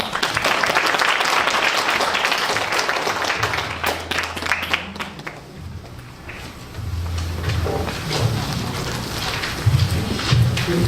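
Audience at a community youth concert opening ceremony claps steadily, a dense wash of applause that thins midway, then low rumbling room noise and shuffling follow.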